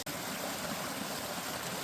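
A stream flows beside a waterfall, a dense, continuous rushing wash of water heard close and loud for the whole short stretch, with no voices.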